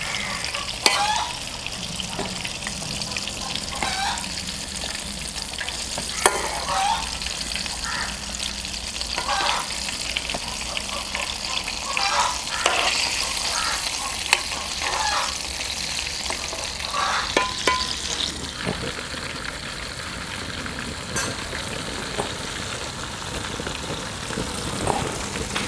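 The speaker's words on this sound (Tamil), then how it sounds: "அதனால் லோ ஃப்ளேம்லேயே பொரித்து ரொம்ப நேரம் வெந்ததுக்கப்புறம் எடுத்தால் நல்லா டேஸ்ட்டாகவும் இருக்கும்" Chicken pieces for a KFC-style, village-style dish frying slowly in oil over a low flame, a steady close bubbling sizzle with occasional pops and turning clatters, continuing for a long stretch.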